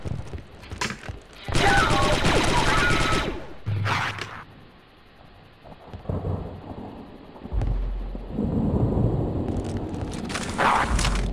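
Bursts of blaster-style gunfire in the Star Wars Republic Commando video game, heavy and loud in two long stretches with quieter gaps, mixed with game noise and some talk.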